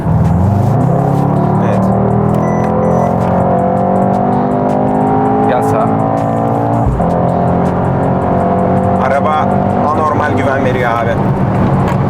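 A Mercedes-AMG GT63 accelerating hard, its engine note climbing steadily and loudly through the gears with a brief dip at a shift, while people talk over the roar inside the car.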